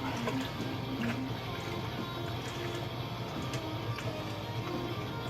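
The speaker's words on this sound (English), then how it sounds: "I'm just gonna scrub all the surfaces in my sump, get the biofilm out" Scrubbing the surfaces of an aquarium sump to remove biofilm, a steady dense rasping and sloshing that fills the whole clip at constant loudness, close by and without talk.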